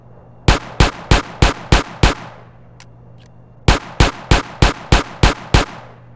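Colt 45 pistol firing in GTA San Andreas, two close, loud, evenly spaced strings of shots, six and then eight, with a short pause between them.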